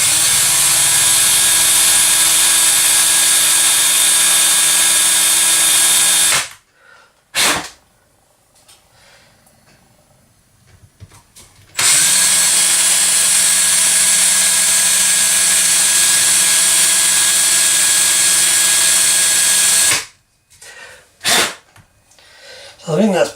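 A power drill bores steadily into a partly started hole after its bit snapped, two long loud whining runs separated by a quiet pause with brief clicks.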